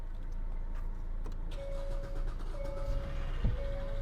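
Car with a 2.4-litre engine starting up, a short crank followed by the engine catching and settling into a low idle hum, heard close with no talk.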